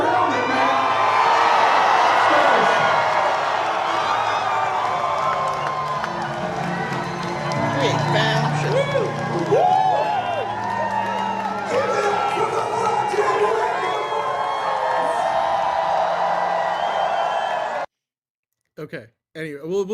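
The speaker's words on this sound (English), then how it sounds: "he got a standing ovation from the whole crowd" A large crowd giving Rick Moranis a standing ovation, loud sustained cheering, whooping and clapping mixed with shouting voices, ending abruptly.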